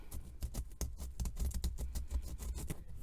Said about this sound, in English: let me get some sandpaper and let me sand it real quick